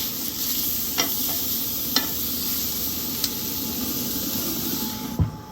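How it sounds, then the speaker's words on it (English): Steaks sear in a cast iron pan on a Pit Boss portable pellet grill at about 650 degrees: a steady, loud sizzle and hiss throughout, broken by occasional small clinks and pops, with no talking. "Searing up really nice."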